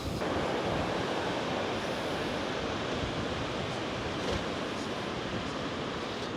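Steady ocean surf rolls and hisses beside a seaside boardwalk in Pismo Beach, California, a continuous, fairly loud wash mixed with wind buffeting the microphone.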